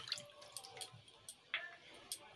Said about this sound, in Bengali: বাটিটাকে আমি ধুয়ে নিচ্ছি।